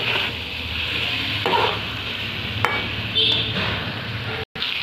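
Soybean curry masala being sautéed in a pan over lowered heat: a constant hissing sizzle broken by a few utensil scrapes and clicks against the pan.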